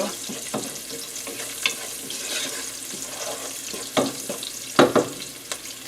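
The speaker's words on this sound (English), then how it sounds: "the garlic is sauteing nicely" Garlic sautéing in a pan while Italian broccoli rabe is being prepared: a soft, steady sizzle runs under clinks and scrapes from stirring, with a few sharper knocks near the end and no talking.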